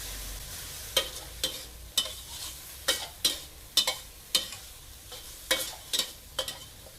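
Minced pork chili paste with fried shallots and garlic being stir-fried in a pan, with a steady soft sizzle broken by sharp, repeated spatula scrapes and clanks roughly every second, close and clear with no talking.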